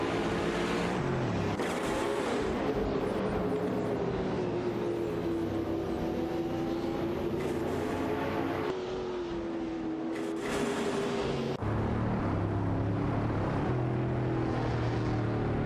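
Racing cars in an AI racing video game roar steadily with sustained engine drone and shifting pitch, several cars blending into a loud continuous rush that briefly drops and resurges.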